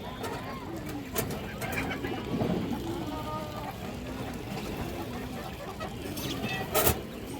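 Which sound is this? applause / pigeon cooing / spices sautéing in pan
pigeon cooing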